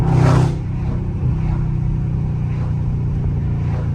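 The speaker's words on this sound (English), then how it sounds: "that downshift is stupid" A loud Dodge Scat Pack engine downshifting during aggressive driving: a sharp roaring burst at the start, then a steady deep engine drone from inside the car.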